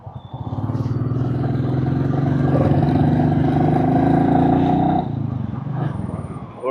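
A motorcycle on a road ride from Delhi to Bulandshahr, its brakes giving trouble, with a steady engine drone that climbs slightly in pitch and then settles, loud and close throughout.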